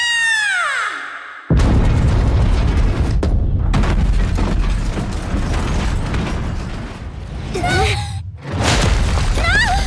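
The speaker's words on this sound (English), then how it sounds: "Then what was that explosion" In the Nikke video game, a sudden heavy explosion hits with a deep boom and then rumbles on loudly for several seconds, with brief cries from a voice before and near its end.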